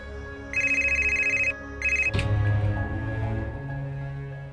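Telephone ringing indoors in a home, two loud electronic ring bursts followed by a sharp clatter and lingering tones.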